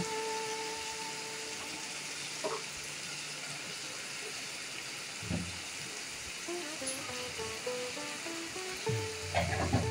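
Eggplant pieces frying with salt and turmeric in a pan, a steady close sizzle with occasional stirring scrapes and clinks.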